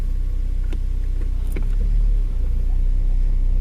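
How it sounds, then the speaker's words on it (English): Saab 9-3 engine idling just after a cold start, a steady low rumble heard from close by, with a few faint clicks and knocks over the top. "started the car, I'll leave her in warmer and dry for a few seconds"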